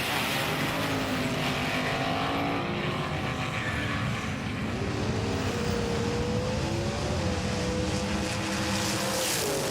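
Small racing cars whine continuously along a track during a race, a steady loud engine drone with rising and falling pitch sweeps as they pass, no talk.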